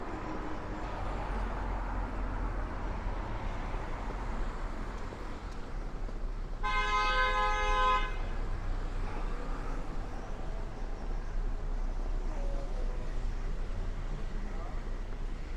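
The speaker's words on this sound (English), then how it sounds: "I wasn't expecting all the horn beeping that we've seen so far" One long car horn blast sounds for about a second midway through a Brooklyn street scene, over a steady wash of traffic rumble that continues before and after.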